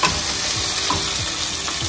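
Fenugreek leaves fry in oil for a homemade mutton liver curry, giving a steady dense sizzle with faint stirring scrapes, close and continuous with no talk.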